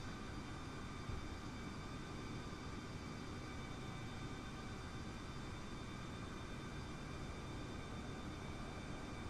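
Airbus A320neo jet engines idling steadily while taxiing in Microsoft Flight Simulator, a constant broadband roar with faint whining tones and no speech.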